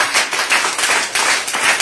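A church congregation clapping in praise: brisk, dense hand claps in a steady rhythmic pulse, loud and close, with no talk over them.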